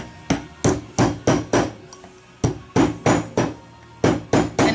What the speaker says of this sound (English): And then just hammer the ends down.